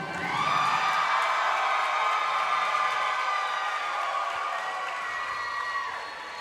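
A fight-night crowd cheers and shouts loudly for a boxer after the bout, a sustained roar of voices and whoops with scattered clapping that holds steady and then tapers slightly toward the end.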